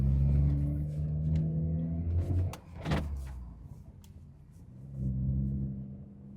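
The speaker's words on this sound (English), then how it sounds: "I'll just let y'all hear the car because it is a shorter drive." A BMW 340i engine drones low inside the cabin on a short drive, a steady rumble that dips near the middle under a brief clatter and swells again toward the end.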